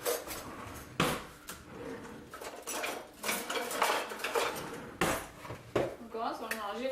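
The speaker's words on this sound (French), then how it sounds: "Puis on mélange." Ingredients are mixed in a bowl for a sweet breakfast, with clinking utensil and dish sounds, scraping and knocks throughout, close by, under a faint voice.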